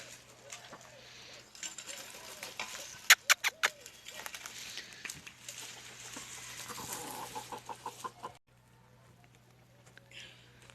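Sultan and Leghorn chickens cluck and chatter nearby in a backyard coop over a steady low hum, with a few sharper calls and some birdsong mixed in.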